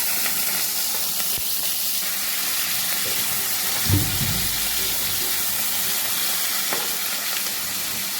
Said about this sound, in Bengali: তেলটা গরম হয়ে গেছে, আলুগুলোর মধ্যে লাল লাল করে এবার ভাজবো